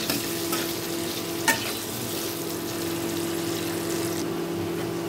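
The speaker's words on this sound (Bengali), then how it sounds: "আমি 2 থেকে 3 মিনিট একটু মুখিগুলোকে একটু ভেজে নেব" Boiled mukhi kochu (taro) fries in a pan with an even, close hiss of oil and one brief scrape or tap partway through, with no talking.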